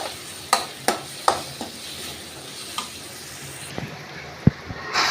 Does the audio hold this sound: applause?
no